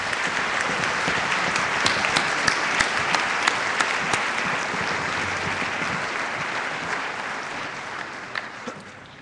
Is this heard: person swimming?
no